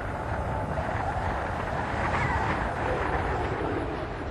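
Space Shuttle Discovery rolls out on runway 33 at Kennedy Space Center after nose gear touchdown, heard as a loud, steady broadband roar with wind-like rushing that stays constant throughout.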